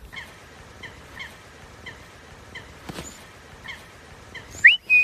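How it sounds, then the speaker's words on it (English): Ducks and geese at a lake call in a rhythmic series of soft quacks, followed near the end by a couple of louder, close honks, set against a quiet outdoor background. "and certainly lots of ducks and geese."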